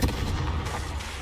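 Confringo blasting spell cast in the Hogwarts Legacy video game, a single loud booming burst with a heavy low rumble, explosive and close, fading over about a second.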